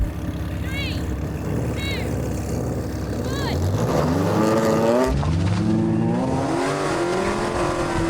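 A V8 car accelerates hard off the line in a drag race, its engine note climbing loud and near as it revs up through the gears, with voices heard over the engine.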